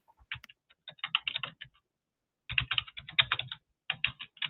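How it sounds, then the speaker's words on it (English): Quick bursts of typing on a computer keyboard, clattering in two clusters of rapid keystrokes separated by a short pause, close and clear with no talking over it. "Sorry, I'm typing."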